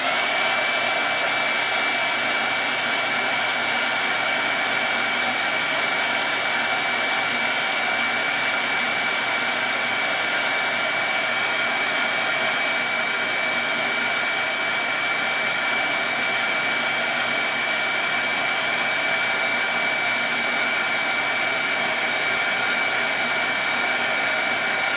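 Steady broadband blowing of a hand dryer or heat tool drying a small craft piece, continuous and fairly loud for the whole stretch, with no talking over it.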